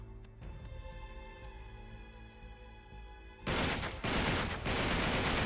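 Loud gunfire from a new weapon in the Uncharted 3 video game: a quieter tonal stretch breaks into heavy, dense bursts of shots that carry on to the end with no voice over them.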